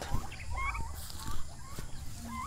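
Ducks on a small farm in the countryside, several birds calling in short overlapping quacks and chatter, fairly close, with outdoor background noise and a brief voice.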